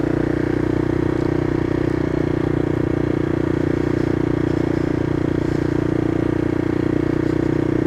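A CCM Flat Tracker motorcycle with a Husqvarna engine runs at high revs in third gear, a loud constant droning engine note with some clatter, no speech.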